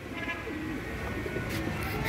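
Pigeons kept by a pigeon fancier coo softly in low, repeated murmurs against steady background noise, with no talking.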